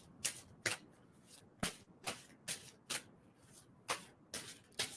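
Tarot cards are riffled and shuffled by hand close up, about a dozen crisp papery bursts in a loose, steady rhythm, with no talking.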